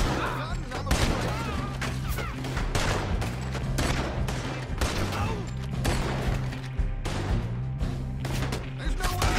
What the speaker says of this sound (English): I'm shooting back.